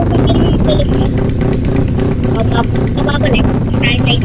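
A motorcycle engine in a Roblox game drones and revs loudly under an excited voice talking over it, the pitch wavering up and down.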